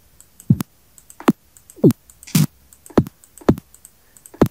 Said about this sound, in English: by just double clicking it, I just double clicked it very fast